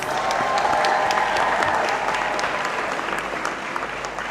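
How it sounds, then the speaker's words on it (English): An audience at a university congregation ceremony in the Great Hall for College of Humanities graduates gives loud, continuous applause that holds steady throughout. "they deserve a big round of applause"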